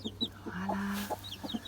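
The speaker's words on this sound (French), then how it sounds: "quand la poule elle grogne comme ça, c'est qu'elle protège un petit peu son nid" A hen on her nest of newly hatched chicks gives low, rumbling protective grunts, a longer sustained growl in the middle framed by short clucks, close and moderately loud over a faint steady background hum.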